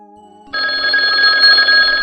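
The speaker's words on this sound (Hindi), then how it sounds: "यार तुम्हारी भाभी का फोन आ गया" An incoming call makes a telephone ring out loud and close, a bright sustained electronic trill that cuts in abruptly after a faint hum and continues steadily to the end.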